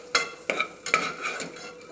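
A spoon stirring moong dal roasting in ghee in a pan, four or five soft scraping strokes in a steady rhythm, close and fairly quiet.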